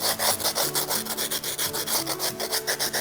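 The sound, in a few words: coarse sandpaper sanding a sculpture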